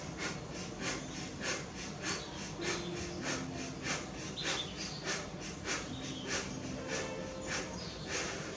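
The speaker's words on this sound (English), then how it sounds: "Now we're going to do breath of fire." Breath of fire yoga breathing through the nose: a steady run of short, sharp nasal exhalations, about two per second, close and even in rhythm, with no talking.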